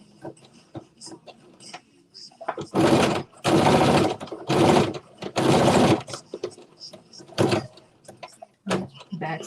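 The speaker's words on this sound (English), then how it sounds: "And I'm going to stitch 5/8 of an inch. Back stitch" A sewing machine stitches a 5/8-inch seam with back stitching, running in several loud, separate bursts of steady whirring, with quiet handling noises and pauses in between.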